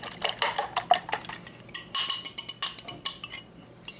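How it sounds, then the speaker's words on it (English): A whisk clatters rapidly against a metal pot while eggs are stirred into cooked macaroni noodles, giving a quick rhythmic series of close, bright clinks that slow near the end. "I'm just going to give it a good whisking around just to make sure that the egg has hit the majority of the noodles"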